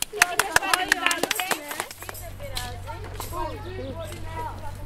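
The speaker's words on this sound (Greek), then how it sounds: "Να χειροκροτήσουμε οι νύμφες, τα παιδιά και τα παιδιά της νύμφες." Applause at an outdoor ceremony for the nymphs and children at the Nymphaeum of Mieza: a burst of sharp claps for about two seconds fades into murmuring voices and children's chatter over a low steady hum.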